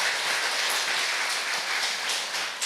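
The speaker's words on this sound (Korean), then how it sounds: "우리 하나님께 영광의 박수를 드리시기 바랍니다." A church congregation applauds during a worship service, a dense, steady wash of many hands clapping together that fills the room for a few seconds without talk.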